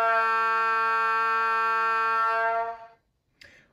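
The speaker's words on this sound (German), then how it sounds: "Unter F2 gibt es klassischerweise das Horn." A model locomotive horn from an ESU Loksound 5 sound decoder in a Piko BR 120 electric locomotive sounds one long, steady multi-tone blast that cuts off abruptly, followed by a brief faint click.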